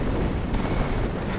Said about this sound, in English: The helicopter's above me.